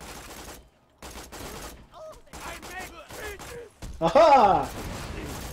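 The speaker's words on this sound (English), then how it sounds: "I'm shooting with a shotgun." Shotgun blasts in Borderlands 2 come in short bursts with gaps between them, mixed with a player's excited voice and a loud exclamation near the end.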